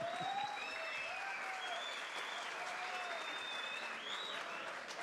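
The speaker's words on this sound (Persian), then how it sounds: "تشویق نکردیم نه؟" An audience at a cage fighting event applauds in a steady, dense wash of clapping and crowd noise, with whistles and an announcer's voice over it.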